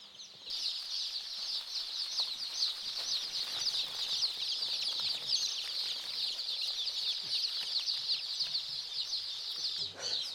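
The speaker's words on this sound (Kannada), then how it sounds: "ನೋಡಿ ಇವಾಗ ನಮ್ಮಲ್ಲಿ ನಾಟಿ ಬರ್ಡ್ಸ್ ಬಂದಿದೆ" Day-old native country chicks in a brooder keep up a continuous high chorus of cheeping, with many overlapping peeps close by and no one speaking.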